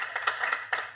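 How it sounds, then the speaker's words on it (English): A small audience gives brief, scattered clapping after a talk on teaching the Old Testament: a handful of separate claps close together, fairly near and modest in volume, with no speech over them. "If we can give Helen a small clap."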